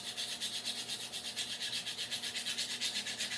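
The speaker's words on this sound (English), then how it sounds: "I'm just going to rub this down here on the sandpaper." Pencil lead rubs back and forth on sandpaper, a close, steady scratchy rasp in a regular quick rhythm, heard alone.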